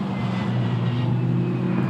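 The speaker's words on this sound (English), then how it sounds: "So the cars will make their way around to the pit lane" Lamborghini Super Trofeo race cars roll toward the pit lane at Spa, giving a steady, fairly loud low engine drone with a constant hum throughout and no distinct passes.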